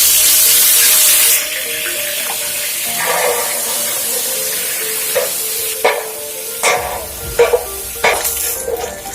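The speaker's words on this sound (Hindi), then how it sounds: "सबसे पहले हम लेंगे घी, थोड़ा सा जिंजर गार्लिक पेस्ट," Ginger garlic paste sautés in ghee in a pan for dahi kebabs. A brief loud hiss comes first, then a low, soft sizzle with intermittent scraping and stirring clatters toward the end.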